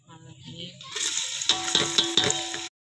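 Onions hit hot oil in a pan and begin frying with a ginger-garlic paste, giving a loud, steady hiss of sizzling that builds quickly, with a few faint clinks of stirring, and then cuts off abruptly.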